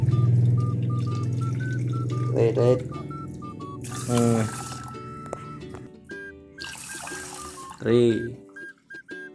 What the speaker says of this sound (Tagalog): upat ka tubig ato ihuwad